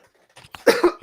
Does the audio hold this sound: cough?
yes